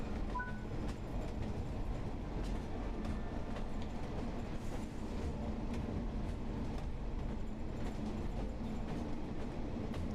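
A DMU train runs in Train Sim World 4, with a steady rolling rumble, rhythmic wheel clatter and faint mechanical whine that continue throughout without talk.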